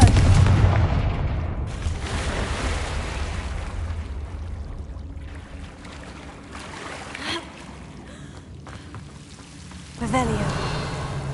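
Confringo blasting spells explode in Hogwarts Legacy: a heavy booming blast at the start, another burst shortly after and a sharp crack near the end, over rumbling ambience with some background voices.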